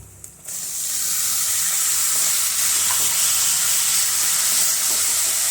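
Chopped onions are dropped into hot oil for an aloo kofta curry, and a loud, steady, close sizzle starts almost at once and carries on without a break.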